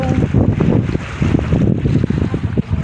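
Steady wind gusting across a microphone outdoors on a boat circling an island, with a low rumbling roar and choppy buffeting throughout, no voices.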